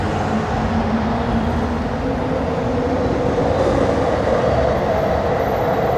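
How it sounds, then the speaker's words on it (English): A train crosses the Knaresborough viaduct, giving a steady, fairly loud rail rumble with wheel noise that holds constant throughout, with no talk. "No travel programme is complete without a picture or a clip of a train going across the viaduct."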